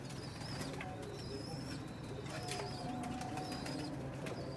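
Sialkoti pigeons in a loft give soft, steady cooing with faint intermittent chirps and the occasional flutter of wings, a dense continuous bed of bird sound with no clear talk.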